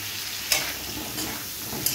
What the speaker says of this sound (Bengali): এবার আমি এই তেলে পটলগুলোকে সব ভেজে নেব।